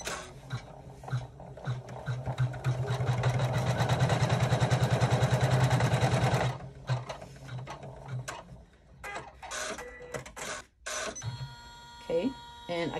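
An embroidery machine stitching a placement line for the left panel of a double zipper clutch, a loud rapid mechanical chatter for several seconds, then stopping, followed by clicks, a few quieter bursts and a person talking.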